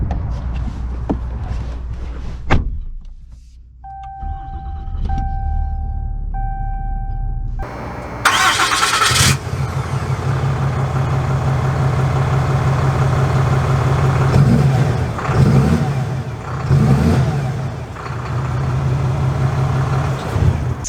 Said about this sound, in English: let's take this out and drive it